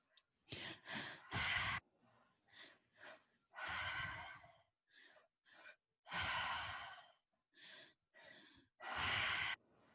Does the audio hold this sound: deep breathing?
yes